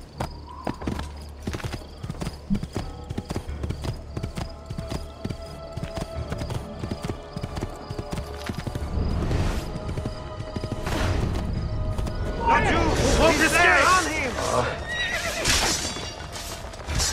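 A horse in the video game Assassin's Creed II clip-clops at a steady rhythm, and the hoofbeats grow louder toward the end. A shrill whinny rises near the close over some in-game ambience.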